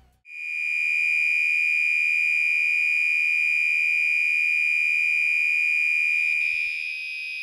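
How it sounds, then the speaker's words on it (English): A Gentex SHG fire alarm sounds a loud, steady, lower-pitched simulated mechanical horn tone continuously for several seconds, a single sustained buzzy pitch with no pauses, then shifts slightly near the end. "the SHG now had a lower-pitched simulated mechanical horn"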